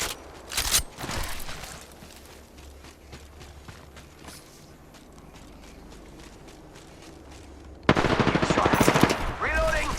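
Automatic weapon fire from the Apex Legends video game rattles in short bursts, with a sharp crack early, running footsteps through the middle and a loud sustained volley near the end.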